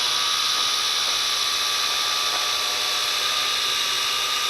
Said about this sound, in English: Let's get a close-up of this quadcopter while it's hovering here.